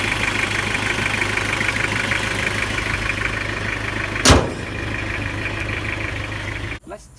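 A 20-year-old Toyota Unser with a 1.8-liter engine and 5-speed manual idles loudly and steadily up close, broken by a sharp knock midway and a door thud near the end.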